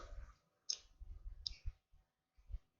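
Scissors snip off the excess zipper while a wet bag is being sewn, a few close, crisp clicking cuts separated by brief pauses, quiet and without talking.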